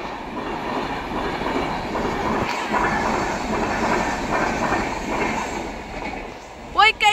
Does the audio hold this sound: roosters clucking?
no